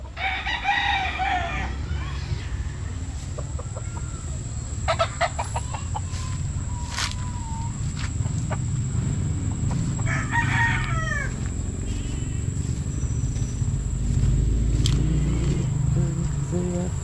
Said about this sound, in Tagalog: Farm ng manok.